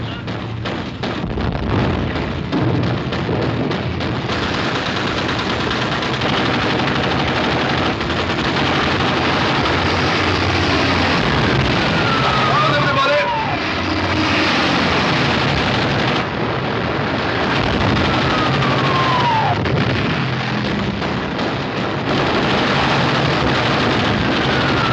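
A warship's anti-aircraft guns fire continuously in a 1942 British war film, with dense, loud, sustained rapid gunfire and blasts mixed with wind noise and occasional descending whines.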